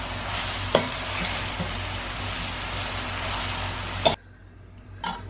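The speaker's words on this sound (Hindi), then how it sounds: "ये देखें जल्दी जल्दी इसको हलाएंगे" Chicken chow mein noodles stirred quickly in a hot pan, a steady close sizzle with scraping stirs and sharp utensil knocks against the pan, the frying cutting out near the end.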